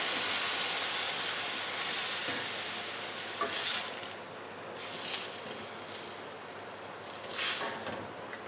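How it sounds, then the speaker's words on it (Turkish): Hot water goes into a pan of sizzling green beans and minced meat, making a loud, continuous hiss and bubbling that swells in a few bursts and then settles to a quieter steady sizzle. "Fasulyelerin suyunu saldıktan sonra yaklaşık 500 ml sıcak su ekliyorum."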